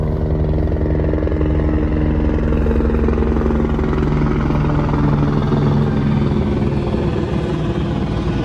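A loud helicopter drones steadily overhead, its rotor thrum and engine roar filling the whole stretch without letup.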